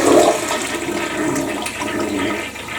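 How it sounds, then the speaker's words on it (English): A toilet flushes loudly and close by, a steady rush of water that runs throughout after WD-40 was used on rust and lime scale in the bowl. "Let's flush it."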